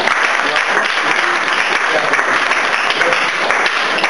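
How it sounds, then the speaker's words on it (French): Students and guests at a diploma ceremony in Senegal applaud loudly and evenly, a dense, sustained wash of clapping from many hands with no break. "Donc applaudissez très fort vos amis."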